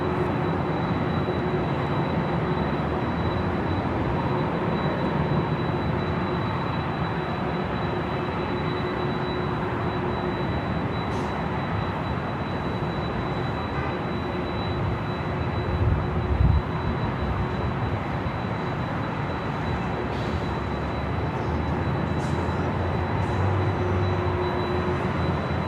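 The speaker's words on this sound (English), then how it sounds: "the Asiana Super now rolling down to 24 left" A Super-class Asiana Airlines jet rolls down runway 24 left at LAX, a steady broadband engine roar and rumble from a distance, holding constant the whole time with a faint hum on top.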